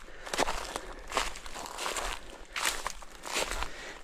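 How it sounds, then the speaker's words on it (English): Footsteps crunching through dry leaf litter off-track in Girraween National Park, a steady walking rhythm of soft rustling crunches, fairly close, with no talking. "At least with all this leaf litter, they're going to hear me and my footsteps"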